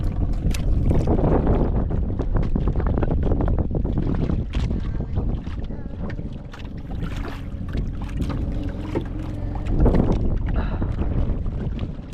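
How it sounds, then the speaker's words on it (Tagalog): Strong wind buffets the microphone continuously, a loud low rumble that rises and falls, with boat and water noise beneath and no voices. "Ikot na naman yung hangin."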